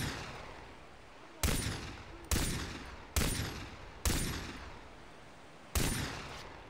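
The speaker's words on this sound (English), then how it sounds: "Either I'm shooting sand or something, or I'm missing horribly." Gunfire from Far Cry 3 erupts as five sharp, loud shots, each decaying over a hissing tail, spaced roughly a second apart with a pause before the last, heard alone without talk.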